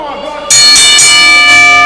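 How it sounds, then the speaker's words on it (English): A wrestling ring bell clangs loudly and rings on with a long sustained metallic tone, during a match broadcast in a crowded arena after a brawl in the middle of the ring. "the bells just sounded. Have we reached our time limit?"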